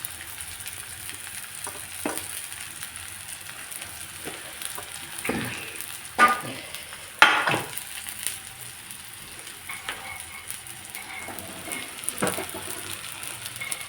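White parts of spring onion fry in a pan with a low, steady sizzle, broken by a few sharper clinks and scrapes of stirring around the middle.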